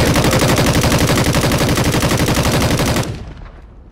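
Dense, rapid automatic gunfire from a Warzone quads battle royale match on PS5, loud and close with continuous overlapping shots for about three seconds before cutting off into a fading tail.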